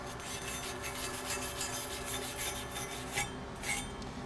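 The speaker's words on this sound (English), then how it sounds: "We'll take our wire brush" A wire brush rubs over a weld bead on half-inch steel plate with a backing strip, giving a steady, close, raspy scrubbing that runs without a break and briefly swells near the end.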